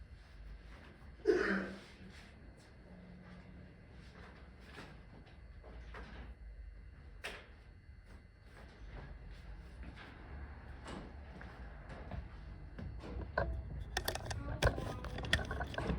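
A door being unlocked and opened indoors: a clunk of the lock and latch followed by rustling, scattered knocks and shuffling movement, with faint voices in the background and some louder clatter toward the end.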